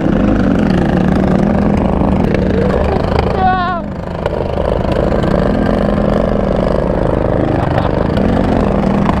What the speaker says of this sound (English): There's 2 lawnmowers on the track right now